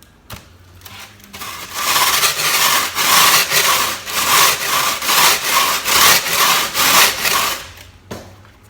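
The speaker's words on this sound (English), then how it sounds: "now I can go to using my sandpaper on a block" Sandpaper wrapped on a block rubbed back and forth over a wooden model speed boat hull, a steady rhythm of loud, close, rasping strokes for several seconds with no talking.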